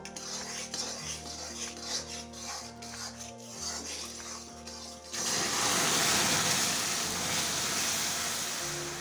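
Soaked sabudana being stirred with a little added water, a rubbing, scraping churn in a bowl; soft and intermittent at first, then a steady, louder wet rasping that continues to the end.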